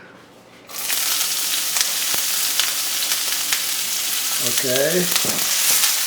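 Wild onions frying in olive oil in a pan on heat that is too high, a loud steady sizzle that starts abruptly and continues throughout, with a brief spoken word near the start.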